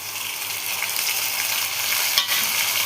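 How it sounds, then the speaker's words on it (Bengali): Shrimp being lightly fried with browned onions in a pan, a dense continuous sizzle close by, with one brief knock of a utensil near the end and no talking. "চিংড়ি মাছটা হালকা ভাজবো, বেশি কড়া করে ভাজবো না"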